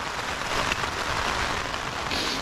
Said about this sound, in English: Rain, wind, snow.